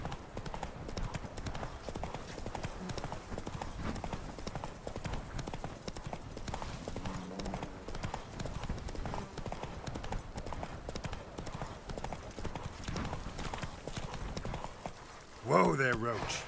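Roach the horse from The Witcher 3 trotting, a steady clip-clop of hooves throughout under game music and ambience, with a voice speaking briefly near the end.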